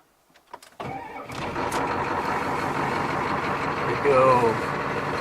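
An old pickup truck with a bad cylinder starts up after a few quiet clicks, then its engine settles into a loud, rough, rumbling idle heard up close, with a faint beep near the end.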